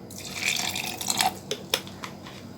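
Two tablespoons of water being added to a pomegranate salad dressing with lemon and black pepper, heard as a few light, close drips and splashes into the bowl.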